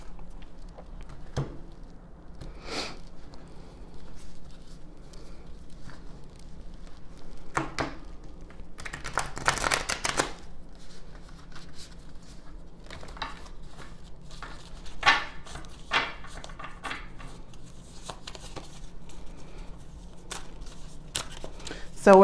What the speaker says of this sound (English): so let's shuffle for the love reading